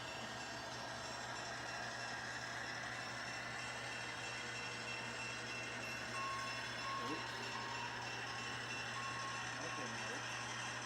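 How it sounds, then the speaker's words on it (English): A modern electronic locomotive bell on a model railroad layout, a faint steady repeating tone sitting under a constant hum and background layout noise. "I hear a modern electronic bell sound"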